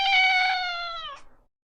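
A girl imitates a cat's meow with her voice, giving one long, loud, drawn-out mew that slides downward and fades out at the end, alone with no other talk.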